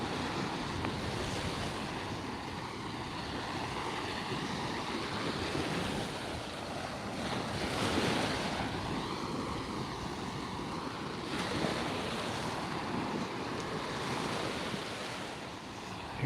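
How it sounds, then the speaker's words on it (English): Sea breeze and ocean waves at Tigertail Beach, Florida: a continuous broad wash of surf with wind buffeting the microphone, swells rising and easing every few seconds at a moderate, steady level, with no voices. "Sea breeze is always nice in the summertime."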